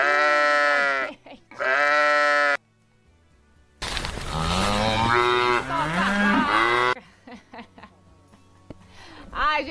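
A played farm-animal sound effect: two long cow moos, a pause, then a loud drawn-out bleat of sheep or goats, followed by scattered fainter animal noises.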